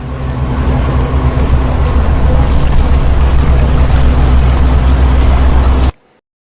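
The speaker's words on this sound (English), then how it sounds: "Ship." A ship's loud, steady, low engine rumble with water rush, close and continuous, then it cuts off abruptly.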